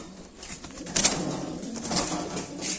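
A pair of pigeons coos softly nearby, with a few low, rounded calls and a faint rustle of wings, with no talk.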